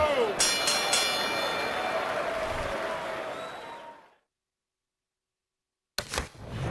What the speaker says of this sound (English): And the bell rings, signifying the end of the round.